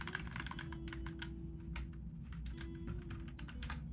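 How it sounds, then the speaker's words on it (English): Quick, irregular keystrokes on a computer keyboard, close and fairly quiet, in short bursts with brief pauses over a low background hum. "Type in my computer real quick."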